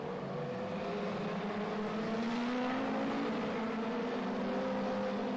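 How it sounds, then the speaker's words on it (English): Dirt track race cars at Ohsweken Speedway drone along toward the pits, a steady engine hum with slowly rising pitch as they roll by at moderate distance. "a couple of cars heading to the pits"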